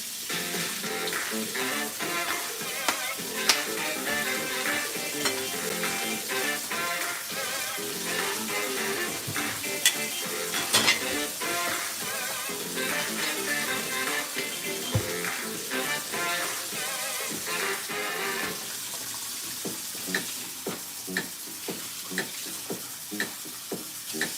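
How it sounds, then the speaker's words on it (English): Dishes are washed by hand under running water, with continuous splashing and hissing water mixed with frequent clinks and clatters of plates and utensils for over twenty seconds, without talking. "the main objective is to finish the dishes"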